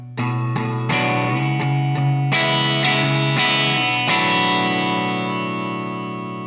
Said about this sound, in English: there's the distortion.